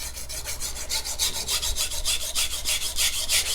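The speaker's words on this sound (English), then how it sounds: "Honestly, it feels good to be sharpening something." A MagnaCut steel knife blade drawn over a sharpening stone in steady, rhythmic rasping strokes, about four per second, close and fairly loud with no voices.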